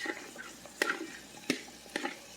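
Zucchini goes into a hot cooking pan for a rigatoni dish, with three sharp stirring scrapes over a light sizzle and no talking.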